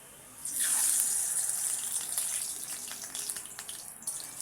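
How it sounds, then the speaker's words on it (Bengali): Water gushes into a vessel to soak cooked rice, making a close, splashing pour that starts abruptly, then settles into a lighter, trickling flow. "এই দেখুন জলে ভিজিয়ে নিচ্ছি"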